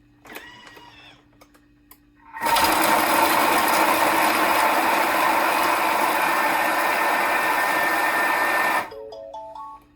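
A food processor chops cauliflower at speed 5 with a loud, steady whirring and rattling roar lasting about six seconds, with faint clicks and beeps before and after.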